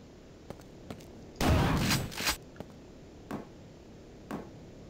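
Enemy gunfire in Quake 2 comes as a dense, loud burst of shots lasting about a second, followed by several isolated sharp cracks spaced out at irregular intervals.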